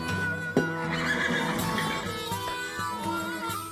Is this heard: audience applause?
no